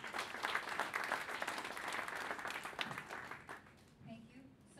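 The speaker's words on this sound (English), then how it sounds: "round of applause for Nikki" A meeting hall audience at an inaugural traders' gathering in the Philippines applauds a speaker with dense, steady clapping for about three and a half seconds. It fades out as a voice begins talking.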